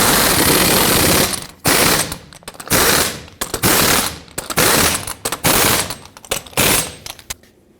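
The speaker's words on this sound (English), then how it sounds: "put back all 6 of your lug nuts, and torque them all down in a cross pattern to 150 foot-pounds" An impact wrench hammers lug nuts tight on a Ford F-150 wheel in about eight loud, rattling bursts separated by brief gaps, close by.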